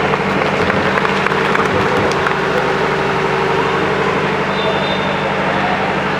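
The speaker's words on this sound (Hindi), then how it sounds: "आप लोग तालियां बजाइए।" An audience claps at a school prize-giving ceremony at a coaching centre: dense, steady applause from a crowd, continuous and fairly loud from start to finish.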